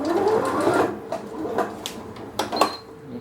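A sewing machine stitches the fabric of a giraffe-themed nursing pillow, running in short close bursts with stops in between, mixed with faint handling clicks and knocks.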